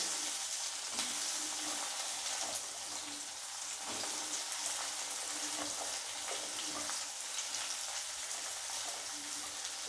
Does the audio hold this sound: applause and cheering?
no